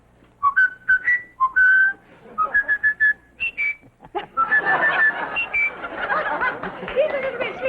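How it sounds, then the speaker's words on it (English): A bird whistles a tune on request during a Groucho Marx quiz show: a series of clear, bright whistled notes in short phrases, followed by chattering and bursts of audience laughter. "Ask him what he whistles for the GIs."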